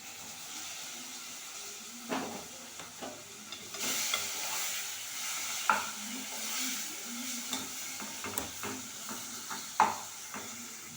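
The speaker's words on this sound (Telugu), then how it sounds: "టమాటాలు వేస్తున్నా" Tomatoes sizzle softly in a pan of oil for a bottle gourd dal, with scattered stirring clatters and scrapes of a spoon; fairly quiet and close, with no talking.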